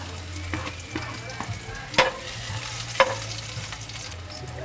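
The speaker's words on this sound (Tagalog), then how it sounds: "Okay, tayo magigisa na." Food sautés in a hot pan with a steady sizzle and frequent scraping and clattering from stirring, including two sharper utensil knocks, close and continuous with no talk.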